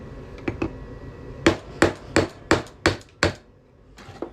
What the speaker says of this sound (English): we're going to hammer this punch through here